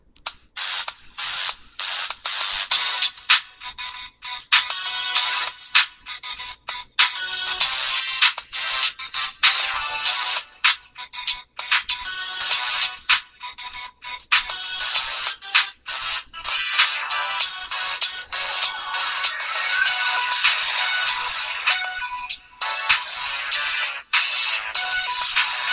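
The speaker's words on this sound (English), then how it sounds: "I want to show you one of the ringtones that I love" Phone ringtone playing loud and close, a bright electronic tune of quick repeating notes with sharp on-off gaps running steadily throughout, no talking.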